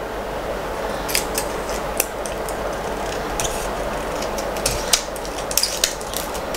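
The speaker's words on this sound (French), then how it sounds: "Parce que déjà je sais pas couper droit." Scissors snip paper for a Christmas mini album in a series of quick, close cuts, sharp and irregular, with a few louder clips near the end and no talking.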